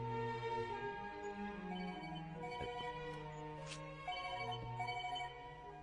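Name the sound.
phone ringtone ringing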